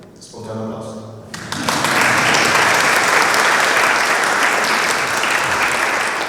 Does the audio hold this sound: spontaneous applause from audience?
yes